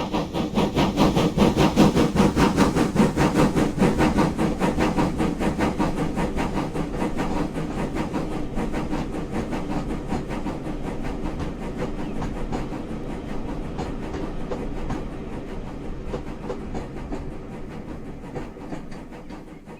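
Southern Railway Light Pacific steam locomotive 34026 chuffs past a caravan site with a train for Canterbury South, its rhythmic exhaust beats and rolling wheels loud at first, then fading slowly as it moves away.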